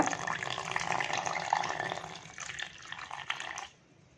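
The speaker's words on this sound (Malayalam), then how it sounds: "കുറച്ച് വെള്ളം കൂടെ ചേർത്ത് കൊടുക്കാം വെള്ളം അധികമായി പോകണ്ട" Water poured into an egg and flour batter in a bowl for a sweet love-letter crepe filling, a soft close trickle and splash lasting a few seconds before stopping abruptly.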